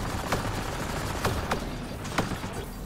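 Gunfire in the sci-fi shooter game Mass Effect Andromeda: a few sharp, separate shots crack out at uneven intervals over a steady, noisy background of combat ambience.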